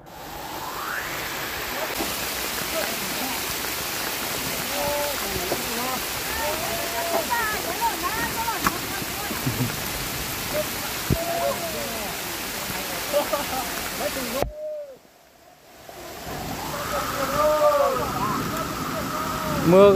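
Heavy rain pours steadily in a muddy Hmong mountain area during truck loading, a dense loud roar with a brief near-silent gap before it resumes; voices talk over it.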